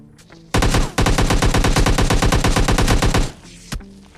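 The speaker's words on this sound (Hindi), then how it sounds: "वो बंदा मेरे पे लगातार फायर करता होता है" Sustained automatic gunfire from an M416 rifle in the mobile battle royale PUBG Mobile Lite, a loud rapid burst lasting nearly three seconds with a short break, then one later shot.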